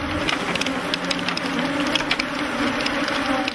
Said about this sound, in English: there must be several million bees swarming around the men